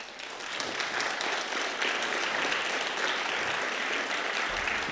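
An audience applauds film director Bertrand Bonello at a cinema talk, steady, dense clapping sustained evenly across the whole stretch, moderately loud with no talking.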